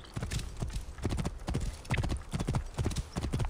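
A horse gallops in Assassin's Creed Origins, its hooves striking in a steady, rapid clip-clop rhythm, close and clear with no talk over it.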